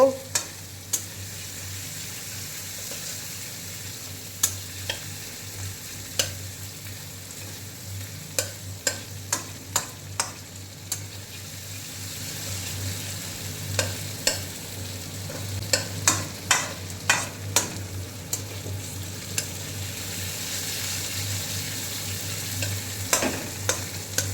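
Tomato, cashews, ginger and melon seeds fry in a pan with a steady low sizzle, punctuated by repeated sharp scraping clicks of a spatula stirring throughout, no voices present.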